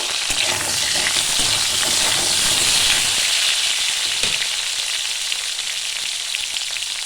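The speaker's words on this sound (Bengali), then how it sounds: "আর দুটো পটল একটু হালকা করে ভেজে নেব" Pointed gourd (potol) fries lightly in a pan, making a loud, continuous, close-up hiss and crackle that stays even for several seconds before easing a little.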